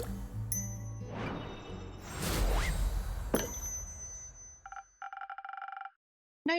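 A bell in the Tavern Talk video game dings after being clicked: a bright, ringing trill near the end, following a few whooshing swipes and clicks.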